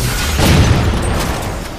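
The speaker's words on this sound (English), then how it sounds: "the explosions" A booming video game explosion with a rumbling low-end tail, loud and dense, followed by scattered crackling debris-like noise.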